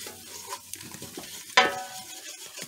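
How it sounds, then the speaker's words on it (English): Flour being stirred into hot oil in a pan for green chile, with a steady scraping, clinking stir and one sharp metallic clatter midway, close and fairly quiet. "My grandma added the oil and she's adding in the flour."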